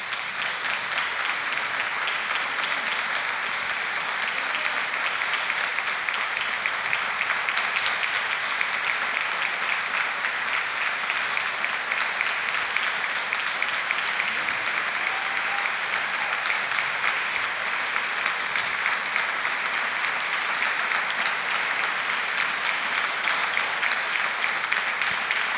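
Sustained, even applause from a crowd at a street gathering, dense clapping holding at a steady level throughout with no pauses or talk.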